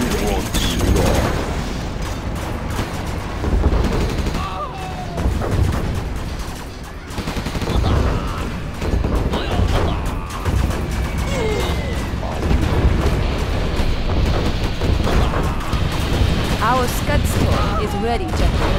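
Heavy Gatling cannon fire in Command & Conquer Generals Zero Hour, with rapid bursts of gunfire and explosions layered thickly in a constant, loud battle din, while game voice lines play over it.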